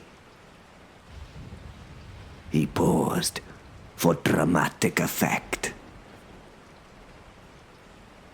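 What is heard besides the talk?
rain sound effect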